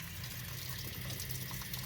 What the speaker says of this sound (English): I'm just flushing the radiator with just pure water